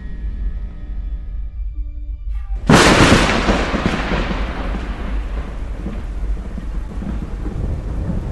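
Sudden loud thunderclap from a thunderstorm bursting in after a quieter stretch, then a long rolling rumble that slowly decays over steady rain-like noise, close and heavy.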